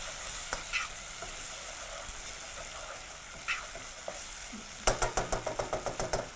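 Garlic and black lentils stirred in a sizzling frying pan for jeera rice and kaali dal, with a steady fry hiss, a few scattered scrapes, then a quick run of about eight rhythmic spoon strokes near the end.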